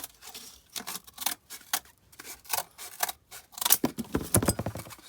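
Scissors snip through cardboard while a custom shipping box for protecting comic books is made, with a series of close, crisp cuts in irregular bursts.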